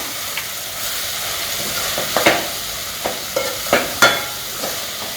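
Ground masala sizzles steadily in hot oil in a pan for a goat intestine gravy, with several scraping stirs of a spoon cutting through the continuous frying hiss.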